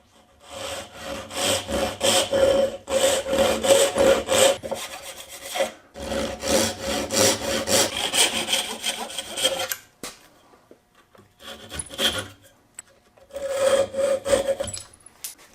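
A hand saw cuts wood to make wedges, with quick rhythmic back-and-forth strokes in several long bursts and short pauses between them, close and clear.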